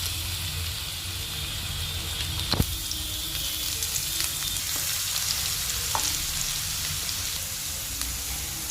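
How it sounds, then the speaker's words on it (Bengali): Chopped garlic sizzles in hot oil in a home kitchen pan, a steady close frying hiss with a few sharp clinks of a spoon, no talking. "এবার ওই তেলেই মা দিয়ে দিচ্ছে রসুন কুচি"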